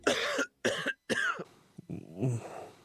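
Several harsh, congested coughs from a cold in quick succession, close and loud, followed by a rough throat-clearing wheeze.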